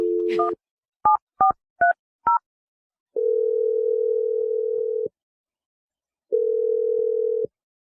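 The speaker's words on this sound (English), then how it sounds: "We're going to dial Clinton's phone number." A telephone call is placed: a brief tone, then five quick keypad beeps at varied pitches, followed by two long, steady ringing tones separated by silence. The sounds are clear and isolated, with no voices.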